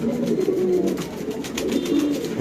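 Pigeons coo repeatedly in a loft where fancy birds are kept, the low throaty calls overlapping in a steady near chorus with no talk.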